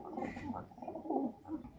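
Soft, low cooing from a mated pair of pigeons, several rounded throaty coos in a gentle rhythm, faint and close.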